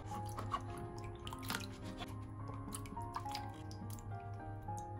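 Fresh ginger being rinsed in clean water after a salt scrub, giving soft close splashes and drips with light squishing, quiet and steady throughout.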